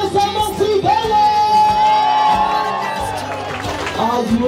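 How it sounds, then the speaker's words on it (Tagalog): Wedding guests at a provincial Filipino wedding in Batangas applaud, cheer and shout loudly all at once, a dense close burst of clapping and yelling with music playing underneath. "Ang malakas na palakpakan ng kasamang sigawan!"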